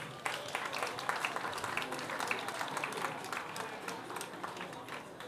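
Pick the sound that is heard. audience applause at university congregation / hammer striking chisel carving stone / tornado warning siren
audience applause at university congregation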